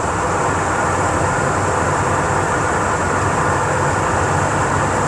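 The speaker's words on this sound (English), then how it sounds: "So right now we're doing about 67, 68 miles an hour down the highway." Victor car cruising down a highway at about 67 to 68 mph in overdrive, a loud, unbroken roar of engine, wind and road noise throughout with no speech.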